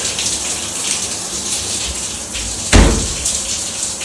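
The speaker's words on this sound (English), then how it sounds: "that water was running right onto the top of that unit" A shower sprays steadily onto a Sailpak Dri-Pak waterproof bag in a cruise cabin, giving a constant hissing patter with a brief louder splash partway through.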